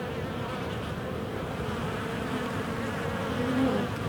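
A dense, steady hum of many honey bees buzzing close by at a hive entrance, continuous and even throughout with no voices.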